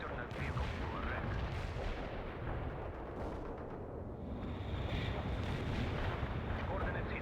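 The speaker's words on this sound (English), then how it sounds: "Launching a barrage. Commencing the barrage." Artillery barrage in the video game World in Conflict: a dense, rumbling series of booming impacts and blasts, loud and continuous, with some radio-style chatter mixed in underneath.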